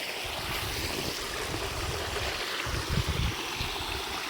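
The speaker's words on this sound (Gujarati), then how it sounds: "અત્યારે તો પાવાનું પાણી ચાલુ કરી દીધું છે, મસ્ત મજાનું પાણી હાલે છે" Steady irrigation water gushes continuously through a mango orchard, a close, broad rushing wash with a slightly louder surge near the end, and no talking.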